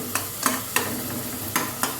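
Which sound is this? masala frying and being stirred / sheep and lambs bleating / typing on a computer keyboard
masala frying and being stirred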